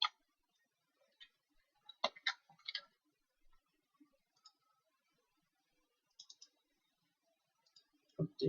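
Computer mouse clicks come as small, sparse, faint ticks, some in quick pairs and short clusters, separated by near silence.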